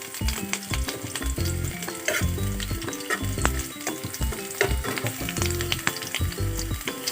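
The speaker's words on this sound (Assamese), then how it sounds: "পিঁয়াজখিনি অকণমান ৰঙচুৱাকৈ ভাজিব লাগিব।" Onions fry and turn lightly golden in hot oil in a wok, giving a close, busy sizzle broken by repeated scraping and clanking strokes of a stirring spoon, with no voices.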